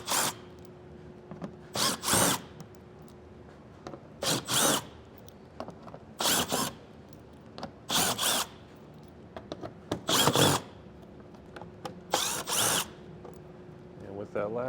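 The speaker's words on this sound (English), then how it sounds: "There's a bunch of 10mm screws holding it up. Just go around and make sure you get them all off." Cordless power drill backing out 10mm screws underneath a 2024 BMW during a trailer hitch installation: short whirring bursts, each a second or less, repeated roughly every two seconds, close and clear against a quiet garage background.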